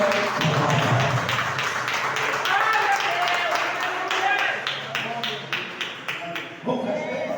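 A church congregation claps loudly and close, a dense burst of many hands that thins into separate claps and fades out near the end, with voices mixed in.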